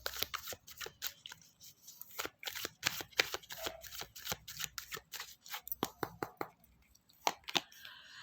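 Tarot cards are shuffled and drawn from the deck, a run of quick, crisp riffling snaps and slides with short pauses between bursts, close and fairly quiet.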